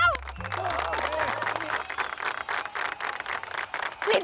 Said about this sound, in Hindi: अरे कम से कम तालियां तो बजाओ यार